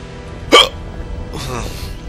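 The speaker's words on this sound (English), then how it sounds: "sorry about the hiccups, guys" A single sharp hiccup bursts out clearly and close, followed by a softer breathy vocal sound, set against quiet room noise.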